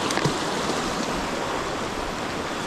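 A hot river stream tumbles near a waterfall in the Bosque de la Primavera forest in Mexico, a constant close rushing and splashing of water that holds steady throughout, with a few brighter splashes early on.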